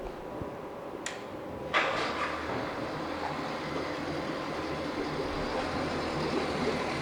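A 1997 Honda 75hp four-stroke outboard boat motor cranks with a couple of clunks and then settles into a steady, moderately loud running hum with no talk.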